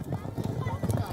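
Horses clop and move about at a Buzkashi match, their hooves and bodies a busy low patter heard beneath someone talking.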